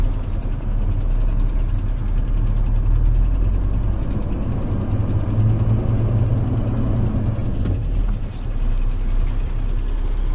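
A truck engine runs steadily as the truck reverses up to dirt berms, giving a continuous loud low rumble and drone with no breaks and no voices.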